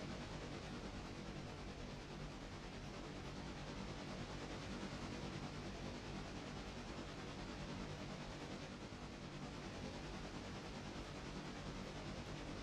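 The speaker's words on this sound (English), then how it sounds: "Yep, that's a train." A passenger train passes with a steady, broadband rumble and hiss that holds at an even, moderate level throughout, with no voices.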